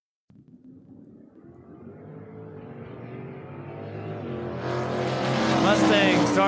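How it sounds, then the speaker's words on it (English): A Mustang drag car with a high-winding SR20 engine revs at a drag race meet, its engine note climbing steadily in pitch and loudness into a screaming high-RPM roar near the end. "In the Mustang, that thing is loud and it makes RPMs."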